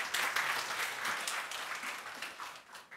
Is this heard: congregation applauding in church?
yes